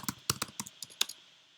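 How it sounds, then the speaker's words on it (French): Computer keyboard keys pressed in a quick run of crisp clicks, ending with the Enter key, close and fairly quiet with no talk. "Donc j'appuie sur Enter."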